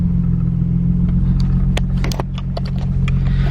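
A BMW E36 engine idles after cranking, a loud, steady low rumble with a few light clicks and rattles over it, close by.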